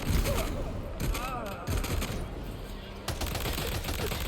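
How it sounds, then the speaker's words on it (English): Machine gun fire in the video game Death Stranding 2 crackles as a rapid, continuous fusillade of close, sharp bursts with brief breaks, and a faint voice sits underneath. "Just got my machine gun and machine pistola."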